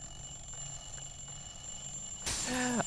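In the video game Dishonored 2, a quiet room tone with faint clock ticks gives way near the end to a loud, bright ringing clock alarm that rises suddenly and warbles in bursts.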